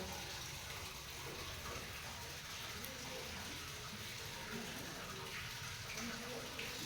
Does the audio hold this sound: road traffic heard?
no